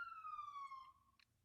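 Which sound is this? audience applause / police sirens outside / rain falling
police sirens outside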